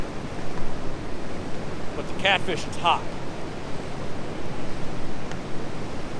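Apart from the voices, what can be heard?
rushing rocky river water in winter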